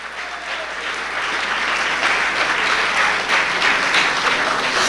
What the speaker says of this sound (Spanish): Dios bendiga los cuatro aplausos